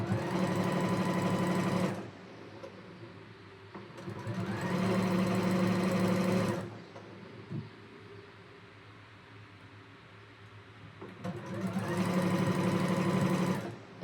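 A sewing machine stitches quilt block seams in three bursts of fast, steady motor whirring and needle clatter, separated by quieter pauses with faint handling sounds; no speech.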